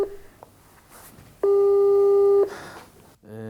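An unanswered phone call gives a steady electronic tone lasting about a second, with a couple of fainter short beeps before it. A voice starts just at the end.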